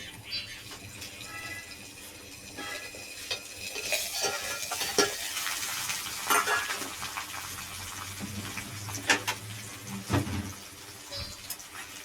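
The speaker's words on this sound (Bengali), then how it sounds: "এবার আলু আর বেগুন ভেজে নিচ্ছি" Potatoes and eggplant fry in a pan with a continuous close sizzle, broken by repeated stirring scrapes and occasional clinks of a spoon against metal, loudening in bursts throughout.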